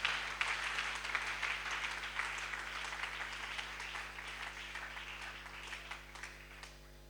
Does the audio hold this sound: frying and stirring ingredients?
no